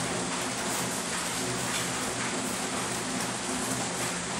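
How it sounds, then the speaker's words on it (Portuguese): Steady rain falling at night, a dense, even hiss of drops pattering on surfaces, continuous and fairly loud throughout with no voices. "esse barulho é de chuva"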